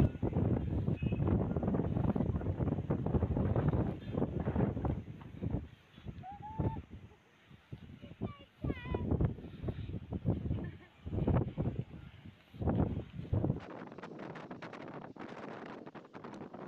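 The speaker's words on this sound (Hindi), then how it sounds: "देख सकते हो घास कितनी अच्छी हवा चल रही है" Strong wind sweeps across grassy ground near a deep drop, buffeting the microphone in heavy, uneven gusts that rise and fall throughout, with occasional faint bird calls.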